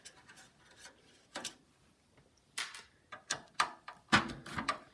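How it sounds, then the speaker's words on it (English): A CD-ROM drive is unscrewed from an NEC Ready 9905 desktop computer, giving quiet, scattered scraping and rubbing clicks that grow busier toward the end, with no talking. "And now it's time to unscrew this CD-ROM drive, CD rewritable drive."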